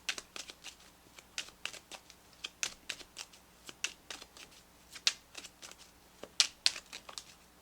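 Tarot cards being shuffled by hand: a quick run of crisp, papery riffles and soft flutters in uneven bursts, close and fairly quiet, with no voice over them.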